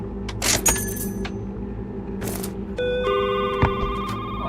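A telephone rings inside a video game, with a sharp bell-like ring followed by a steady electronic tone layered over low background hum; no one speaks.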